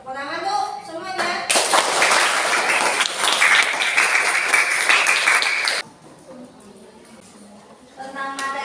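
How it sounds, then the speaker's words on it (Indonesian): A classroom of students claps together after a group presentation, a dense burst of applause lasting about four seconds, with a teacher's voice before and after. "Tepuk tangan tuh semuanya."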